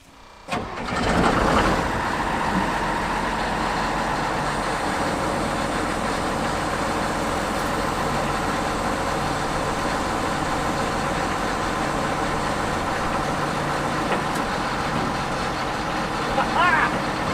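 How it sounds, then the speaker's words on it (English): An abandoned combine harvester's auger runs steadily, engine and machinery forming a loud continuous drone that builds after a brief start and holds throughout. "Let's see if the auger will extend itself, engage, and spin"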